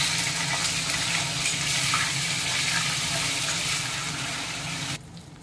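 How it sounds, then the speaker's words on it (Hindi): Soya chaap frying in hot oil in a kadhai gives a steady, dense sizzling hiss that runs continuously at moderate loudness, then stops abruptly near the end. "अब इसमें हम डाल करके ये चाप को फ्राई करेंगे।"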